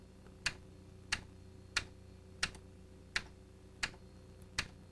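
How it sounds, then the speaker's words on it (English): Seven evenly spaced sharp clicks of a computer keyboard's quote key being tapped to set a tempo, steady tempo, close and clear over a faint hum. "By tapping the quote key on your keyboard"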